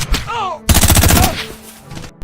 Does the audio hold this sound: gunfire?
yes